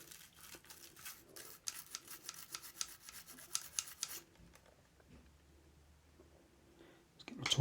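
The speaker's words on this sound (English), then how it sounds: "getting the toothbrush in and around that to clean that up as much as" A toothbrush scrubs the parts of an eBay Minidisc player with fast, rhythmic rasping strokes for about four seconds, then stops, leaving quiet handling noises and a louder clunk at the end.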